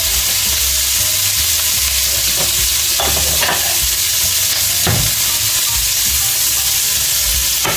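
Cod sizzling and frying in oil in a pan while being turned, a steady close hiss with faint stirring clinks and no talk.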